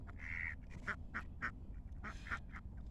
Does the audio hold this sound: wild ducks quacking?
yes